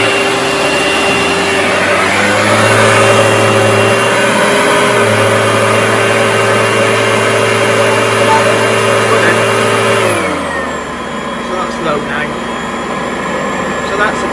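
An Oreck Magnesium RS upright vacuum cleaner, after repair, running on its first speed: a loud, steady motor whine with a constant hum, which winds down near the end, leaving quieter room sound with a voice speaking.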